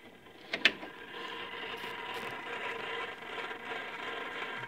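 Noisy whirring drone from a Magnavox Imperial console stereo turntable running at 78 RPM, steady mechanical hum with a couple of brief clicks near the start.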